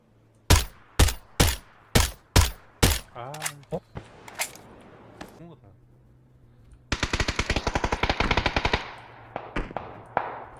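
Video game gunfire in a duo shooter match: a slow series of heavy single shots, then a rapid automatic burst, fairly loud and close with some sharp decaying echoes.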